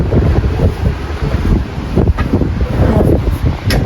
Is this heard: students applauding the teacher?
no